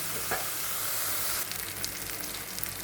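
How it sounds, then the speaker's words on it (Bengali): Spice paste sizzling in hot oil in a pan, a steady crackling hiss that grows brighter partway through, with faint stirring and no voices. "মশলা ভাজা হয়ে গেছে"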